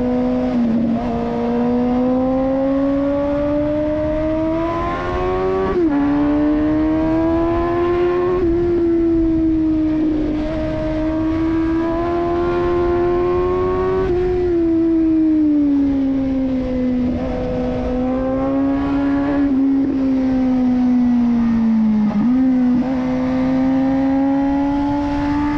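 A Suzuki GSX-S 750 motorcycle accelerates hard with a loud, steady engine whine that climbs in pitch, dropping briefly at each gear change before rising again throughout.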